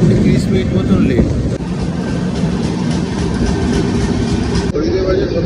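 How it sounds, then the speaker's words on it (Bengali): Dooars Express passenger train running between Dalkhola and Kishanganj, heard from on board as a loud, steady, close rumble and rattle that continues without a break throughout. "আমাদের ট্রেন এই ডালখোলা ছেড়ে দিয়ে কিষানগঞ্জ ঢুকছে"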